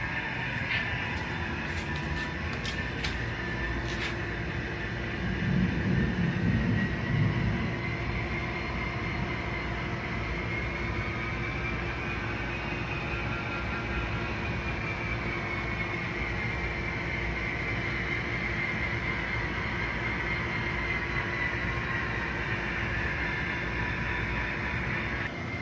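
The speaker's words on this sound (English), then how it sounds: "We'll watch him go back into the engine terminal." A switcher locomotive rolls back toward the engine terminal, a steady low rumble of engine and rail noise continuing throughout with no talk, a slight swell in the low end early on.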